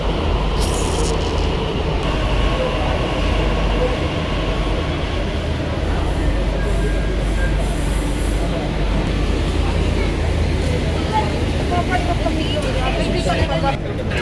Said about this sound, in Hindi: तो लो जी भाई साहब अपनी ट्रेन भी अपनी मेट्रो भी आ चुकी है।